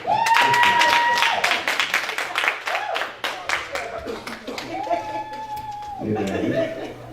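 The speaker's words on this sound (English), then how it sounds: "Clap your hand for them like you be clapping your hand for yourself." A church congregation claps hands together, a dense burst of applause with scattered chatter and a chuckle, fading as a voice speaks and rising again near the end.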